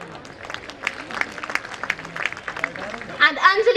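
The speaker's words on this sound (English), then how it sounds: "Audience, please keep applauding for our achievers." Audience at a school founder's day event applauding achievers, with a scatter of claps rising into fuller applause toward the end, heard under a person talking.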